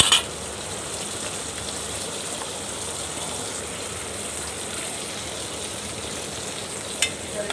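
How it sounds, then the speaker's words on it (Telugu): Onions and green chillies frying in a pan, a steady even sizzle that holds throughout with a couple of brief knocks, no talking. "ఉల్లిపాయలు పచ్చిమిర్చి వేయించుకోవాలి"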